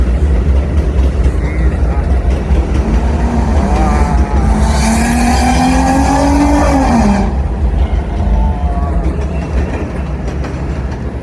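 New York City subway train accelerating, its motor whine rising steadily in pitch over several seconds and then cutting off, with loud rumbling rail noise throughout and a voice talking over it.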